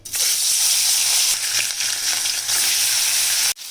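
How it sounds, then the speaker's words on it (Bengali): Hilsa fish sizzling in hot oil, a loud, dense hiss and crackle that holds steady from start to finish before cutting off abruptly, with no talking over it. "এবার মাছটা নিয়ে দেখো তেলের মধ্যে দিয়ে দেবো ভাজা হবে মাছটা ভেজে নেবো"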